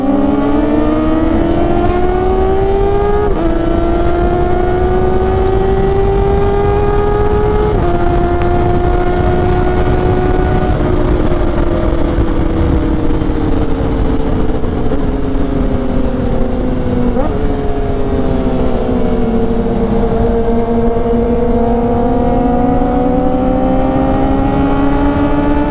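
A Yamaha MT-09 motorcycle engine on an uphill race course roars loud and close, its pitch climbing and falling through repeated revs and gear changes without a break.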